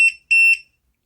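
Two loud electronic beeps from the timer of a Resiners airless vacuum machine signal that the cycle has finished, one short tone and then a longer one, close by with no talking.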